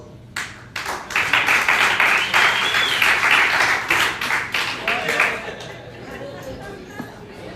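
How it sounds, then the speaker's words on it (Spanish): A church congregation bursts into sustained applause, a dense wash of many hands clapping that rises quickly, holds steady, then thins out toward the end. "Denle un aplauso."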